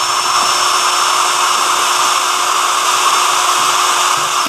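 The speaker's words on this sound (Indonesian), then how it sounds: "Sekarang kita akan uji RPM. Pertama, kecepatan nomor 1 ya, modenya mode drilling." Makita HP488D cordless drill in drilling mode running at its lowest speed setting, giving a loud, steady, even whine with a constant motor tone throughout.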